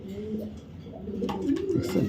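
A racing pigeon coos close by, a couple of soft low rolling coos rising toward the end, with faint background noise.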